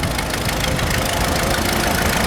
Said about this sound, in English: Lovely, nice four-wheel drive, nice international tractor